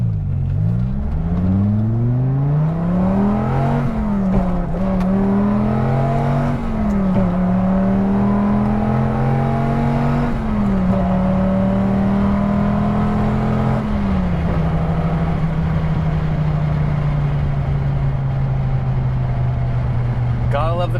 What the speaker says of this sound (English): Gotta love the feel of that hard acceleration from that 8-liter V10